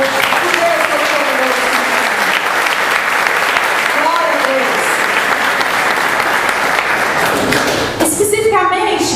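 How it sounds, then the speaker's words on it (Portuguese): A church congregation claps loudly and continuously in a full, reverberant room, with a faint voice and occasional thuds under the dense applause. "Dê um aplauso ao Senhor."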